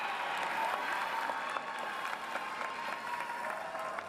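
University humanities graduates at a commencement ceremony in an arena applaud and cheer themselves and each other, a dense sustained crowd clapping heard at a moderate distance throughout.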